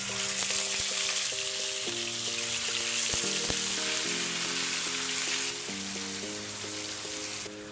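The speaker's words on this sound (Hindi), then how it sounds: "उसको हम अच्छे से फ्राई करेंगे" Marinated chicken frying in hot oil in a pan for Afghani chicken, a loud, dense, continuous sizzle heard up close for several seconds, with light background music and no voices.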